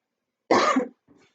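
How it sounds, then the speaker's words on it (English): A single harsh, close cough from a person irritated by a strong disinfectant spray, followed by a fainter short second cough in otherwise silent surroundings. "Sorry I keep coughing."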